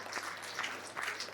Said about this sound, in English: Round of applause, come up.